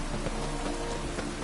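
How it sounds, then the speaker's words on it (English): Rain in The Witcher 3, a steady dense patter of falling drops with no break across the short stretch. "Looks like rain."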